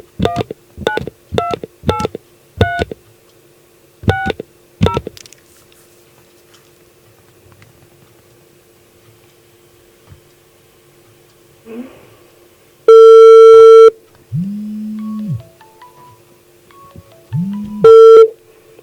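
Telephone keypad tones beep in a quick series on a radio call-in line, then a quiet stretch, followed by loud ringback or busy-signal tones and a short electronic melody.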